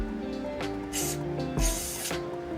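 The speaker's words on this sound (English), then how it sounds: "I'm just gonna spray a little in there to clean that out a little bit." Short bursts of aerosol spray cleaner aimed into a snow blower part during maintenance, two or three close hissing puffs over a low steady background, with no talk.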